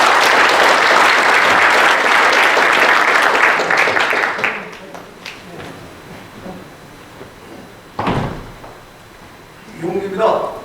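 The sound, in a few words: applause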